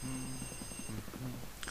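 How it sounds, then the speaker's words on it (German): A ringing telephone in the video game Luigi's Mansion chirrs in rapid, repeated buzzy trills, close and fairly steady, with a short pause midway before the ringing resumes. "Nein, das ist nicht mein Real-Life-Telefon, das ist hier."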